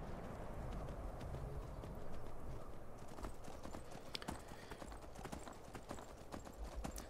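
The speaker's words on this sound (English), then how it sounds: "I have also taken the liberty of using the Convenient Horses mod to add armor to Shadowmere" Horse hooves clip-clop steadily in the video game Skyrim as an armored horse trots along, a rapid rhythmic patter at moderate volume with faint game ambience beneath.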